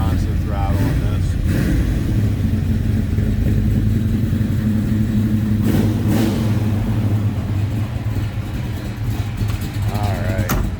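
A 1970 Chevrolet Monte Carlo with a built big block engine idles with a deep, loud rumble, then is blipped through several sharp revs, with voices talking over parts of it.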